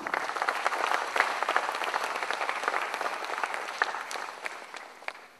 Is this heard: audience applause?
yes